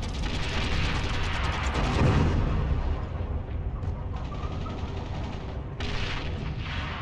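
Sustained gunfire in the video game Heroes & Generals, heard from a Panzer III J/1 tank, forms a dense, loud, continuous battle din with mechanical rumble and no talking.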